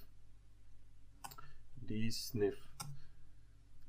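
A computer keyboard gives off scattered light clicks as a terminal command is typed, with a voice talking over the keystrokes.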